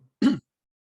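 A single short throat-clearing cough, close and fairly loud, lasting about a fifth of a second and followed by silence.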